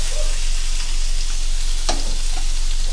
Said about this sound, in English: I saute the onion